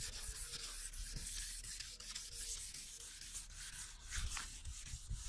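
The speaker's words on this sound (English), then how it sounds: "Make sure you have enough paint gloss between the sandpaper and the headlight" Sandpaper rubs back and forth over a car headlight lens wetted with paint gloss, a steady close gritty scrubbing with rhythmic strokes and no voices.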